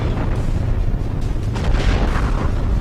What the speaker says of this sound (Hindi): धमाके की आवाज सुनते ही अफरा तफरी मच गई